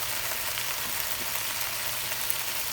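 Oil sizzling in a pan with leftover teriyaki sauce while cooking a chicken and shrimp stir fry, a steady close hiss and crackle with no talk.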